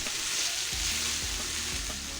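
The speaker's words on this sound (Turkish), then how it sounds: "bir su bardağı sıvı yağımızı derin bir tencereye alıp üzerine doğranmış biberleri ekliyoruz. Rengi dönene kadar kavuralım." Chopped peppers sizzle steadily in about a glass of hot oil in a deep pot, with a few soft stirring scrapes near the middle and end.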